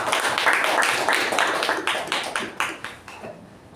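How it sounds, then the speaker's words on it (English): An audience at a Toastmasters meeting claps in a brief round of applause, dense hand claps that are loud at first and then thin out and fade toward the end. "Let's give a round of applause for that being done"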